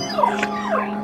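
Polterpup, the ghost dog in the video game Luigi's Mansion 3, lets out brief high whimpering yips over a steady humming game soundtrack.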